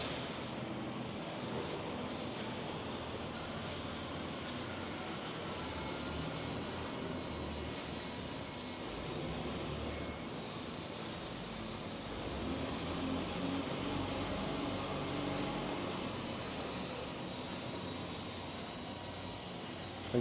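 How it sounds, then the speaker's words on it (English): Spray adhesive hisses steadily onto the backs of foam tool inserts, close and fairly quiet, in short bursts that run almost without pause for about twenty seconds, with no talking. "We're just adhering some spray glue to the back or bottom"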